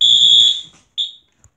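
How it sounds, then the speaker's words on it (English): A pulled fire alarm blares a loud, steady high-pitched tone for about half a second, then cuts off and gives a shorter second blast and a tiny final chirp, with no voices. "I'm going to pull the fire alarm. It is very loud."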